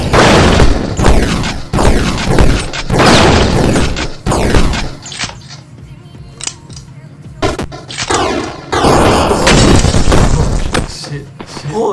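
Grenade explosions and gunfire in the video game Super Fighters: loud booming blasts and rapid bursts of shots that repeat over several seconds, with quieter gaps between them and a sharp crack near the end.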